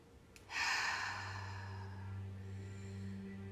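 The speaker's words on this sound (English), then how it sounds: "some deep inhales through the nose. And some deep exhales through the mouth" One deep breath drawn in through the nose and released slowly out through the mouth during a breathwork meditation, a soft close airy rush that fades over a few seconds above a low steady hum.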